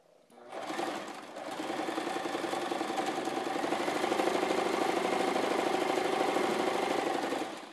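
A sewing machine stitching around a child's fabric bucket hat, a continuous fast mechanical whirring hum that starts after a brief pause and runs steadily, close and alone.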